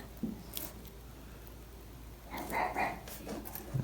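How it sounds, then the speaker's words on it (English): A dog barks a few times in the distance, faint short yaps rising over a quiet background. "Always barking."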